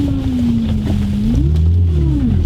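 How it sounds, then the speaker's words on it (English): Failing power steering pump on a 2003 Infiniti G35 Coupe whines steadily and loudly over a low engine rumble, its pitch sagging and then climbing again. "Of course I gotta replace the power steering pump if you haven't heard it already."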